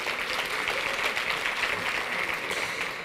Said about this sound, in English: Let's give them both another round of applause.